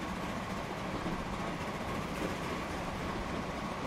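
Steady broadband rumble of an LNER A4 steam locomotive running along a winding track in Transport Fever, a continuous rolling train noise at even loudness with no talk.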